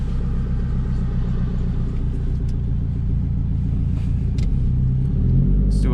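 A 2004 Subaru WRX STI pulling gently at night with a clutch still being broken in, its engine a steady close rumble inside the car that swells and rises toward the end.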